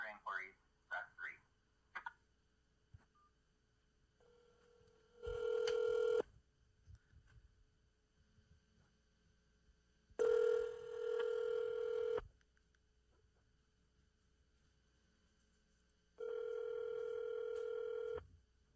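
A telephone call rings through a speakerphone in three long, evenly spaced ring tones. Each tone cuts in loud and clean over near silence, after a few brief quieter blips at the start.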